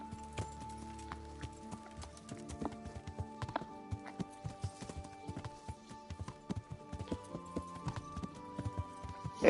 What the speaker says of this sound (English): or you can just call your horse